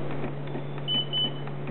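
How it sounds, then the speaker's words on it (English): An Omnipod insulin pod beeps during deactivation, giving two short electronic tones close by over a steady low hum, with no talking. "the pod beeped twice and then this beeped"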